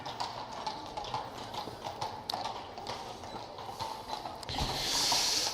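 Horse hooves clip-clopping in a video game, a steady run of close, rhythmic hoof beats over ambient background noise, with a louder hissing swell near the end.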